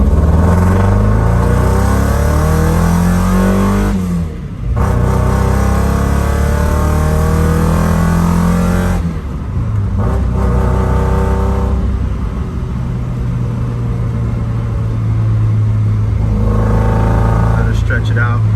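Mazda Miata (Eunos) engine revving hard and accelerating through city streets, a loud, raspy exhaust rising and falling in pitch across several gear pulls, with brief dips between shifts.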